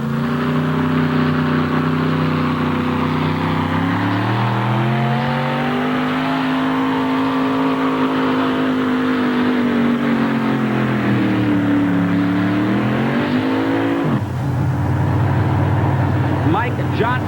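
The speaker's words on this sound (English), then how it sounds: "These are three of the hottest four-wheelers around, and they're sure to get every inch they can out of the big sled." Four-wheel-drive pulling trucks roar as they drag a heavy sled at a 1988 NTPA tractor pull in Hamburg, a loud sustained engine howl that climbs, dips and climbs again before cutting off abruptly, with an announcer talking over it.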